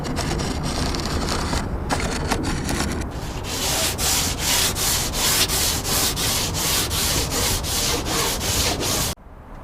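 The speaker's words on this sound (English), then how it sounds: "I've been sanding for about an hour and 15 minutes now" Steady, loud abrasive sanding of a fiberglass surface on a catamaran, with a rhythmic back-and-forth scrape that intensifies midway, then stops abruptly near the end.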